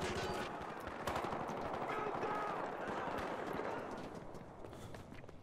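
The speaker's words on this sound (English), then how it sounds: "Someone's trying to freaking snipe me again. With the semi-automatic." Rapid semi-automatic rifle fire from the video game Battlefield Hardline, dense overlapping shots and battle noise packed throughout at steady loudness, with a voice faintly present in the mix.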